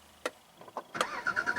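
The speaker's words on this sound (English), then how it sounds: "Turn on the car, just put your foot on the brake and make sure you have your key fob within the interior." 2012 Jaguar XF started with a push button: a few soft clicks, then the starter catches and the engine fires with a quick rising flare that settles into pulsing revs, close and alone.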